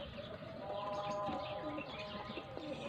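A newly hatched pigeon chick in a nest beside an egg gives soft, faint cooing and chirping calls, close but quiet, over low background noise and occasional voices.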